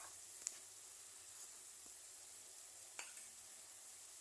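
Spices frying in hot oil in a pan for a garlic and fenugreek curry, with turmeric, red chilli and coriander powder, a faint steady sizzle with a few soft clicks and stirs, no talking.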